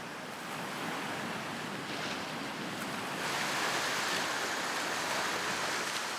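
Strong ocean currents and surf surge through the channels of Rangiroa atoll, a steady loud wash of churning water and breaking waves that swells louder midway, with no voices.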